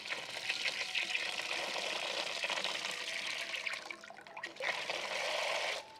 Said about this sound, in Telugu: నీళ్ళు పెడదాం